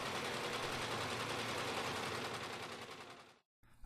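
An industrial sewing machine stitches synthetic webbing slings with a loud, continuous, rapid mechanical chatter that runs steadily, cuts out abruptly near the end, then briefly starts again.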